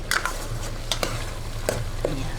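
Ground meat sautéing in a pan with fish sauce and pepper, a spoon stirring and scraping in several brief strokes over a steady close sizzle, with no talking.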